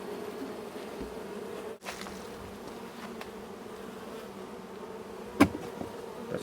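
Honey bees buzzing steadily during a transfer from a Langstroth hive into a top bar hive, a continuous close drone of many insects with one brief sharp knock near the end.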